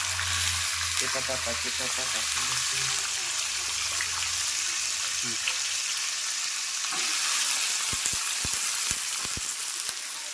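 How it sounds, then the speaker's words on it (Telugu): Freshly washed broad beans splutter in hot oil with a steady, close sizzle. A low hum runs underneath early on, and several sharp pops and spits come toward the end. "నేను కడిగేసి వేసుకునేసరికి చిటపట్లు ఆడుతున్నాయి అనమాట"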